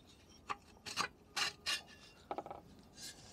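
A part is slid off a Minarelli V1 50cc engine during a strip-down for a Cimatti Mini Chic restoration, making a handful of short, close metallic scraping rubs in uneven bursts over quiet background.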